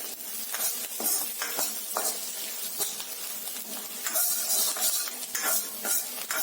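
Chicken frying with chopped green chilies in a pan for street-style chili chicken, steady sizzling with repeated scraping and stirring of a utensil against the pan, close and continuous.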